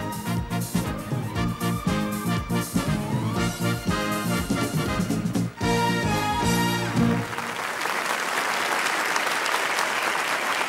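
At a Schlager TV show, loud studio audience applause breaks out after a musical number and keeps going in a dense, sustained clatter of clapping.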